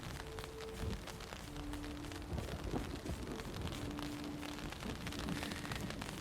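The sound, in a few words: heavy rain with thunder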